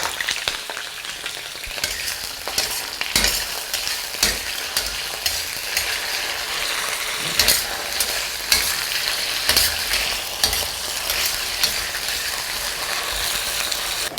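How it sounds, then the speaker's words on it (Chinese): Potato slices for dry-pot potatoes fry in hot oil in a wok with a steady, dense crackling sizzle and occasional stirring clatter, loud and close, with no talking. "锅里来点油，把土豆片稍微煎一煎"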